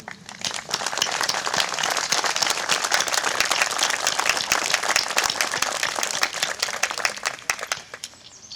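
Crowd applauding at an outdoor anniversary ceremony in Quaregnon, a sustained burst of many hands clapping, dense and even from start to finish, then tapering at the very end.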